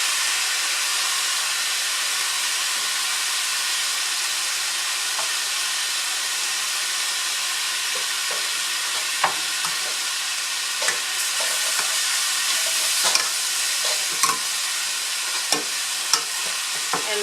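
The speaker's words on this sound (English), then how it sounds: "Okay, so we're going to add the rice." A cup of rice is stirred into a hot pot for chicken soup, giving a steady close sizzle and hiss with a few scraping clicks of the stirring.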